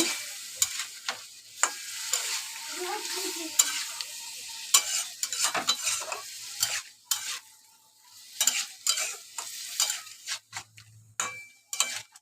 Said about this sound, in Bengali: ভালো করে এটা আমি একটু ভেজে নেব